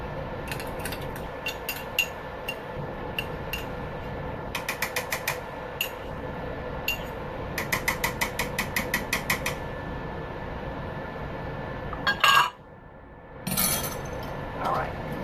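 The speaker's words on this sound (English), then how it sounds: "I'm just going to whisk, whisk, whisk" Egg yolks are whisked in a bowl in a home kitchen, making quiet, rapid clicking bursts of metal tapping the bowl in several short runs, with soft background noise between them.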